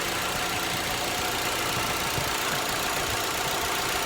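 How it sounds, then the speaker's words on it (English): A 2014 Holden Cruze engine idles steadily after an inlet gasket replacement, giving a continuous, even mid-pitched hum with light mechanical ticking and no talking. "So I've turned on the engine, checked for any leaks."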